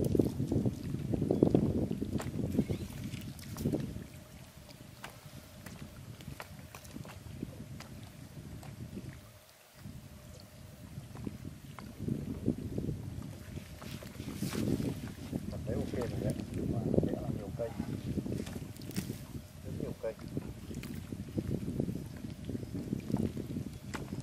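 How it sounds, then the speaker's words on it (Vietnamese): Strong wind gusting across a natural lake during a fishing session, a rough low rumble buffeting the microphone in waves, briefly dropping out before building again, with someone talking at times over it. "Trời khá gió to mọi người ạ."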